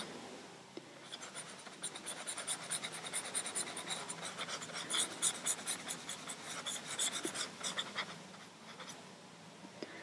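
Charcoal scrapes and rubs across paper as a tree is drawn and roughly smoothed in, a steady run of soft dry strokes close to the microphone with no talking.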